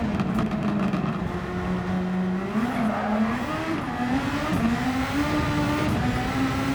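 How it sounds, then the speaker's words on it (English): Car tires squeal through a corner in Gran Turismo 7, a wavering whine riding over a steady engine drone, rising and falling as the throttle is eased off and tapped back on. "tire squeal, I let off, throttle, tap, feeling it through the controller"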